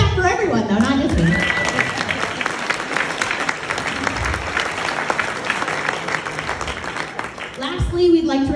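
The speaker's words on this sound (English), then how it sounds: "let's clap for everyone though, not just me." Audience applause at an annual awards meeting, a steady dense wash of clapping hands filling the room for most of the stretch, with a speaking voice heard at the start and end.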